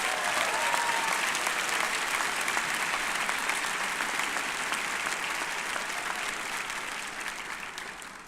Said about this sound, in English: How about a nice round of applause for them?